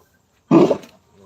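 A voice imitates a tiger roar, one loud, rough growling burst of about half a second that trails off, with near silence before and only faint sound after.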